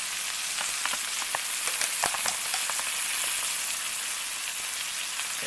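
A maitake mushroom steak sizzles steadily in a hot pan, a bright, even hiss with scattered crackles and pops, close and alone with no talking.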